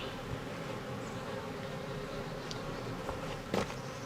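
Honeybees hum around an open hive during an inspection a few days after a split. The buzz is faint and continuous, with a few soft clicks and brief knocks near the end and no talking.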